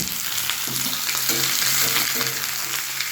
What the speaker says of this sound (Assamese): মাংসখিনি ধুনীয়াকৈ ভাজি ল'ম পানী দি নবনাওঁ